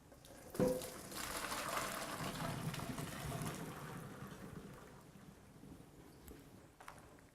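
Cooked ravioli being drained at a kitchen sink: a soft thud, then a steady rush of running and pouring water that gradually tapers off, fairly quiet with no talking.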